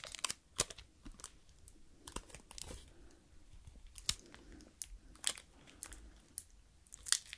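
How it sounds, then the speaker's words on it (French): Close crinkling and sharp tearing crackles of Scotch tape being handled, in irregular bursts with short pauses between. "Je vous montre, on est sur du scotch."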